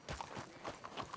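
Horse hooves clip-clopping in Red Dead Redemption 2, a quick run of four or five soft steps, close and fairly quiet, with no talking.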